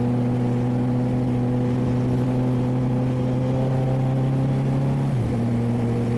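Motorcycle engine running steadily with a strong, even exhaust drone during a ride on a cold day, the pitch dipping briefly near the end as the throttle eases off.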